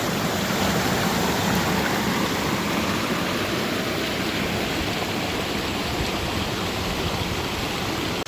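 Floodwater gushes down a swollen creek in Gippsland, making a steady, dense roar of rushing water that stays loud and unbroken throughout.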